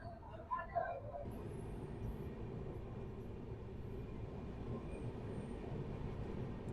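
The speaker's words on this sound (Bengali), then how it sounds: "8টা 15 আমাদের ট্রেন এখন ঝাড়গ্রাম ছাড়লো।" The 12813 Steel Express rolls onward after leaving Jhargram, a steady low rumble and rattle of the moving carriage throughout, with a brief bit of human sound at the very start.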